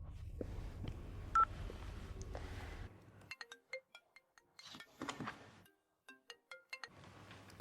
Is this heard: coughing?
no